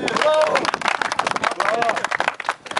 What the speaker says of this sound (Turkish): Üçüncüye bir alkış istiyorum üçüncüye ben.